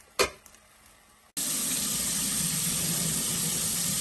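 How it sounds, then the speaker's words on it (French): Tap water gushes steadily into a bowl as maize couscous is washed for a Burkina Faso bean-and-couscous dish, a loud continuous pour starting abruptly after a brief quiet knock. "Je lave un peu mon couscous de maïs là."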